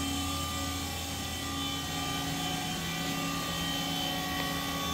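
A five-axis CNC machining centre with through-spindle coolant and high-speed machining capability runs its spindle at 5,000 RPM, giving a steady, loud whine with sustained tonal hum that stays even throughout, with no talking.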